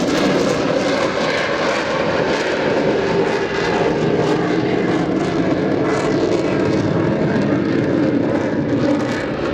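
A Finnish Air Force F/A-18C Hornet jet flying a square loop at the RIAT airshow, a loud continuous roar of jet engines filling the air without a break, heavy and steady throughout with no voices.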